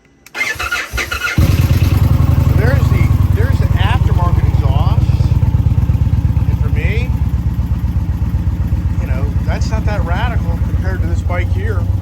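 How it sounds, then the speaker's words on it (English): An Indian Challenger motorcycle with an aftermarket exhaust fires up and settles into a loud, steady, throaty idle with a rumbling exhaust; faint voices can be heard in the background. "let's just listen to this bad boy here"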